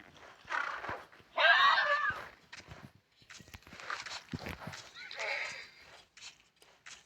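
A horse in the PUBG video game neighs loudly in a sharp whinny, then its hooves clop unevenly on the ground in short bursts, with a second, fainter whinny following.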